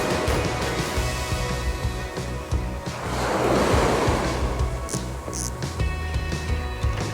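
Ocean waves break and wash steadily onto a surf beach on Ise Bay in summer, with a rushing surge swelling in the middle and wind buffeting the microphone, loud and close with no talk.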